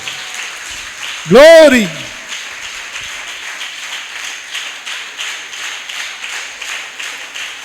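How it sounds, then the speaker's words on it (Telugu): A church congregation claps along in a steady, even rhythm that keeps going under a loud call from a voice near the start. "చప్పట్లు కొట్టి దేవుని నామానికి కనపరుద్దాం."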